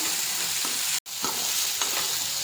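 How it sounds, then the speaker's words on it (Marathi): Onion, garlic and ginger sauté in hot oil, a steady close sizzle with a few soft stirring scrapes and one brief cut to silence midway. "आता आपला कांदा लसूण आलं सगळं व्यवस्थितशीर परतवलं गेलेलं आहे"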